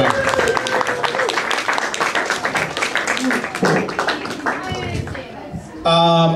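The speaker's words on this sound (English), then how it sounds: "One more time for Michael, everybody. Clap it up for him." An open mic audience at a brew house gallery claps for a performer, with close, lively applause, shouting and voices mixed in, ending with a brief loud tonal burst.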